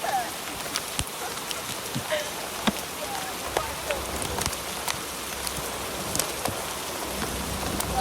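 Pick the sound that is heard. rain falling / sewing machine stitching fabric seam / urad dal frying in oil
rain falling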